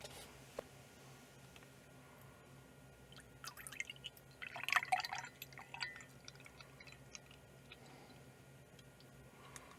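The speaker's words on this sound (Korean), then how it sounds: "자 그럼 우유부터 따르고 먹어볼게요." Seoul Milk is poured into a container, a short splashing pour midway through an otherwise quiet stretch with faint ticking drips.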